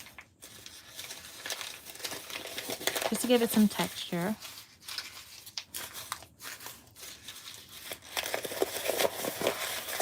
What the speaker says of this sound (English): I might just crumple this up like that.